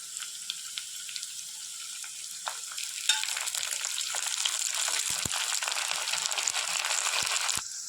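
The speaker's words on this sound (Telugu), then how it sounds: "ఇందులోకి వెల్లుల్లి ముక్కలు ఆ తర్వాత కరివేపాకును వేసుకుందాము" Garlic pieces and curry leaves dropped into hot oil with fried onions, building into a bright, steady sizzle with occasional sharp pops and a few stirring clinks, close and continuous.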